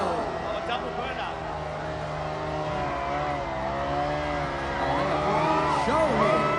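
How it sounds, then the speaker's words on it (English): Ducati Lenovo team MotoGP motorcycles do a double burnout at a 2025 season opening event in Bangkok, a steady loud engine roar with wavering, climbing revs over a busy crowd. "Ducati Lenovo team. Here we go. Double burnout."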